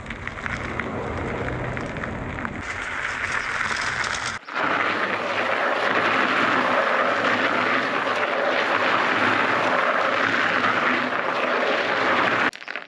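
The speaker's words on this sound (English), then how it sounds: "Yep, it'll spin the tire." EUY folding electric bike motor spins the tire, a loud whirring hum that jumps to a fuller, steady roar partway through and then cuts off near the end.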